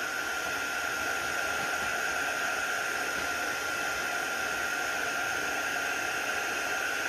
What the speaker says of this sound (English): I'm going to get my heat tool and I'm going to emboss that